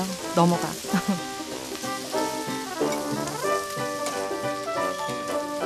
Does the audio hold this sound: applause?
no